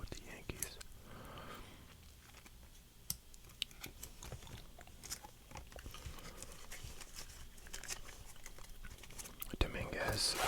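Soft, close gum chewing with small wet clicks and smacks sits under quiet whispering, joined by faint tapping and rustling of baseball rookie cards being handled.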